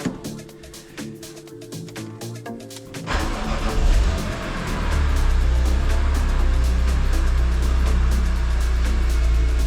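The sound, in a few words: car engine starting and running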